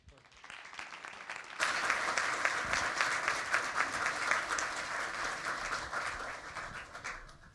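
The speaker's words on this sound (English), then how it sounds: "Please join me one more time in a round of applause" Audience applause at a NASA administrator swearing-in ceremony: steady, dense clapping from a sizeable crowd that swells suddenly, holds loud and even for several seconds, then begins to thin toward the end.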